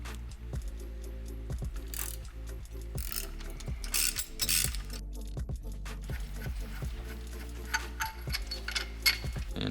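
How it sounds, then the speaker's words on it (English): A socket wrench ratchets steadily as the nut and bolt come off the front of an engine motor mount on a Honda Element, fast close clicking in bursts with short pauses between runs. "the first step is going to be to remove the nut and bolt from the front of the motor mount."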